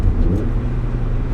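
A Mazda Miata's engine rumbles low and steady inside the cabin while rev matching on a downshift. The drone is loud and close with no voices over it.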